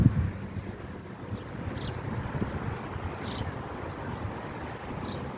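Soft, steady wind blows through an outdoor park in Dubai, a faint broadband rush with light gusts and a few distant chirps, no voices.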